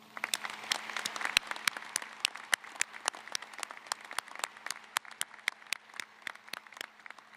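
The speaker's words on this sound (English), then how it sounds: "let's please give these educators a round of applause" Audience applause for educators at a 2015 opening convocation ceremony, a steady run of distinct claps standing alone at moderate level throughout.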